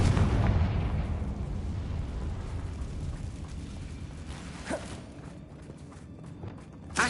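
A Confringo blasting spell fired in the video game Hogwarts Legacy: rumbling explosive bursts over a dense, busy game soundscape, with a couple of sharper cracks near the end.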